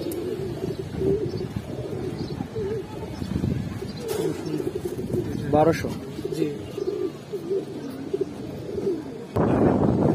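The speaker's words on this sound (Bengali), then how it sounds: "দেখেন সিলভার কবুতর, সিলভার কবুতর" Giribaz pigeons, silver-coloured, coo softly and repeatedly in a close, low, throaty rhythm, with people talking briefly over them.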